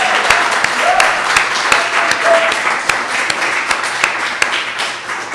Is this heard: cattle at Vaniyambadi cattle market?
no